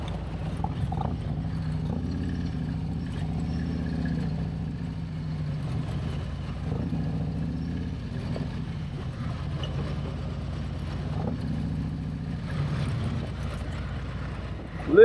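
A Harley-Davidson motorcycle engine idles with a low, steady, slightly uneven rumble in city traffic, moderately close, with faint background street noise.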